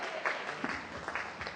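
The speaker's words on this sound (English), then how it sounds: "Give Lucas a big round of applause, guys" A live audience gives Lucas a short round of applause at a magic show, a brief burst of scattered clapping from a crowd, fairly close and steady, over about a second and a half.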